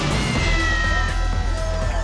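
A cartoon cat meows loudly over a dense, continuous music bed, the cries steady across the whole stretch with no talk.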